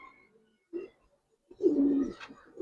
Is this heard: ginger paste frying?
no